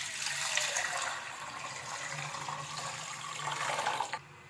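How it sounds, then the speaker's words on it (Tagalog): Water pours steadily into a cooking pot for sinigang, a continuous splashing rush lasting about four seconds, close and fairly quiet, ending abruptly. "maglagay tayo ng tubig. 4 na cup."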